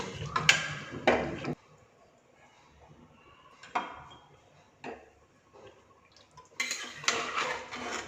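A spoon scrapes and clinks against a pot of mutton curry as it is stirred, a few sharp metallic knocks and scrapes between quiet stretches, close by.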